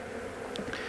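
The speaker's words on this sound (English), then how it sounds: "Look at all the bees going crazy" A swarm of honey bees buzzes around an opened hive, a dense, continuous droning hum close by, with individual bees zipping past now and then.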